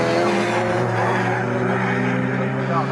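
Historic 1960s race cars of the CSCC Swinging Sixties Group 1 field roar at Snetterton circuit, engines loud and sustained with layered harmonic whine, a continuous close pass with a commentator talking over the noise.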